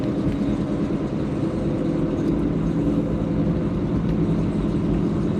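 Car driving slowly on the road, a steady low engine and tyre rumble that holds at a constant level without pause, close and fairly loud, with no talk.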